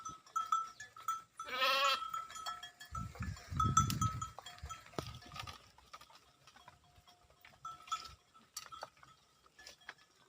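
A flock of frightened sheep grazing near Palani, Balasamudram runs past with scattered bleats and the patter of hooves. The sounds are faint and mid-distance over quiet outdoor ambience.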